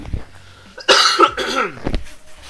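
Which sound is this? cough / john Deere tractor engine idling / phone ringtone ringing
cough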